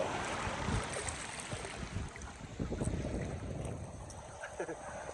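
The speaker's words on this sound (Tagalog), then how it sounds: "Ang lakas ng alon. Dinadala siya pabalik." Strong sea waves rush and churn at a beach on Coron Island, Palawan, in a continuous loud wash mixed with wind buffeting the microphone.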